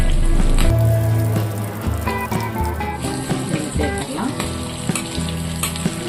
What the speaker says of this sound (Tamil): மசாலா தடவி வச்ச எல்லா சிக்கனையும் சில்லி சிக்கனாக எண்ணெயில் பொறிச்சு எடுத்துட்டோம்